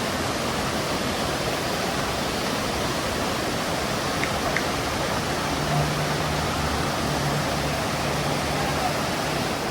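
Dunn's River Falls waterfall in Jamaica, a steady dense roar of rushing water throughout with faint voices barely audible beneath it.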